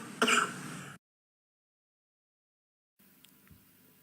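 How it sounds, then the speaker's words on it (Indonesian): A single throat clearing or short cough, loud and close at the start, followed by silence and then faint background noise. "Lagi batuk bang."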